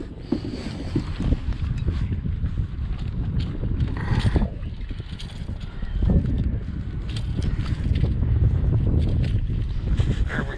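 Wind gusts across the microphone while bass fishing from an Ascend 10T kayak, a rough, fluctuating rush with water noise, steady and loud throughout.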